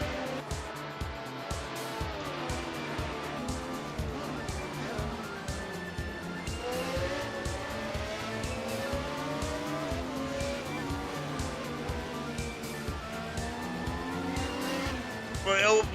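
F1 race cars in a racing video game, with Brabham, Ferrari and McLaren cars on the Hungarian circuit: continuous engine whine shifting up and down in pitch, with tire squeal, under steady commentary talk.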